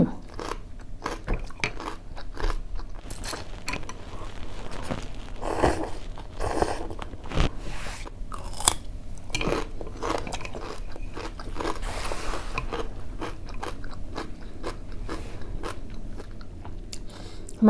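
Close crunchy bites and wet chewing of tom yum shrimp instant noodles with big Japanese cucumber, with steady irregular crunches and slurps throughout and no talk.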